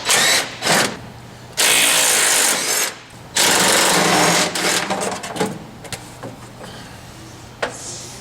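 Bursts of a power tool or impact driver whirring as bolts are removed from a hydraulic toolbox, loud and close, with several sustained runs and short pauses between them.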